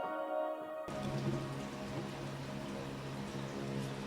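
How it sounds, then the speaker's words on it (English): Water runs in a steady broadband rush, splashing and pattering as soap is rinsed off succulent leaves, starting abruptly and continuing close and evenly without any voices. "just rinse it off, make sure it's clean and free of meal"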